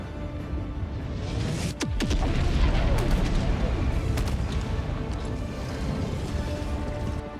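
An orbital strike explodes in the shooter game Helldivers 2, a loud booming blast with a falling whistle just before it, then sustained rumbling and scattered bangs, while a voice talks over it.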